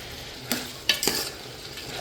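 Spoon stirring vegetable pulao with fresh coriander and mint in a rice cooker, a few distinct scraping strokes over a soft steady background, no voices.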